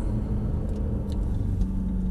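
Mercedes-AMG car on the Brooklands track at Mercedes-Benz World, its tyres working under cornering as a steady low rumble of road and engine noise with a faint humming tone, close and continuous.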